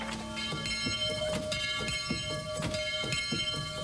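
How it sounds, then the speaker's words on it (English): A farm dinner bell rings repeatedly along a country road, a series of evenly spaced metallic strokes with lingering overtones over a steady background rumble. "we suddenly heard a distant dinner bell ring"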